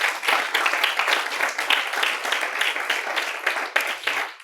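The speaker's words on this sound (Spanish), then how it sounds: "Démosle un aplauso a Él." A church congregation breaks into loud, close applause during a sermon, a thick wash of many hands clapping that holds steady for several seconds.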